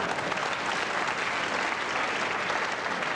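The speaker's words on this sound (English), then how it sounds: "Gets a round of applause from the audience." Snooker audience at the 1983 Lada Classic breaks into a round of applause, a dense, steady patter of many hands held at an even level for the full few seconds.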